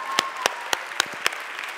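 Sparse applause in a theatre at a charity arts gala: about five distinct, loud claps spaced evenly, then a few fainter scattered claps, with no cheering or talking.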